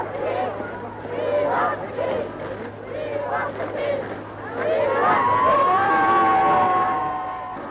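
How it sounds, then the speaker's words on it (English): A large crowd cheers outside Buckingham Palace on VE Day, a dense roar of many voices that rises in waves and then swells into sustained, louder shouting in the second half. "Outside Buckingham Palace, the crowds cheered themselves hoarse."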